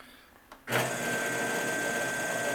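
A Groen twin agitated kettle's agitator starts up after a soft click and then runs at low speed, a steady mechanical hum with a whirring drone that stays even and close.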